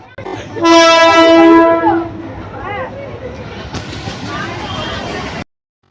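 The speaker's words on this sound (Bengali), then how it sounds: "এখন ট্রেন আসে অপেক্ষা করছি হরিপাল স্টেশনে দাঁড়িয়ে।" A train pulls into Haripal station in West Bengal, its horn blaring loudly for about a second before wheels clatter and rumble past, with crowd chatter on the platform underneath.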